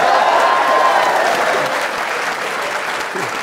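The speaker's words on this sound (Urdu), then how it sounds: "ویری گڈ, تالیاں بجائیں گے." A studio audience on a Pakistani political talk show gives loud, dense applause that stays close and sustained, easing slightly toward the end.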